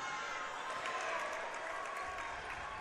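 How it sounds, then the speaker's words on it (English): A basketball crowd in the stands of a Richmond versus Portage game roars steadily at the officials, a dense, sustained wash of voices and noise throughout. "the crowd really letting the officials have it, especially the guy right next to the Richmond bench"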